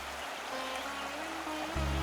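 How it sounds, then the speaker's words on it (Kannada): Water rushes and burbles steadily like a nearby stream, a continuous washing hiss with a low hum underneath and no voices. "ತೊರೆ ಜರಿಗಳ ಮಧುರವಾದ ಕಲರವ"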